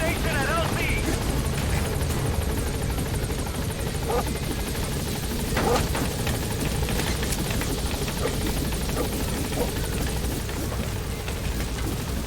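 Helicopter rotor noise from a landing chopper in the video game Metal Gear Solid V, a steady loud thrum that fills the scene, with some radio-style game dialogue over it.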